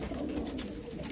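Domestic pigeons kept as a hobby coo softly in a steady low murmur, with several birds overlapping at a moderate distance.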